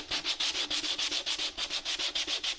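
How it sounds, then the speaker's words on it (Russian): Wet sandpaper rubbing water-based paint off a wooden windowsill, a fast steady rhythm of back-and-forth rasping strokes, about seven per second, close and continuous with no talk. "Потом я наждачку смочил в водичке."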